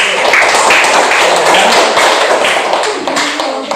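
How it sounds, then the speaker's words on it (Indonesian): Students in an Indonesian classroom give a round of applause for a classmate who answered, a dense, steady patter of many hands clapping together without pause throughout. "Yuk, kita kasih aplaus ke kawan yang tadi jawab."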